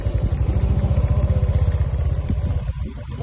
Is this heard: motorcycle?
yes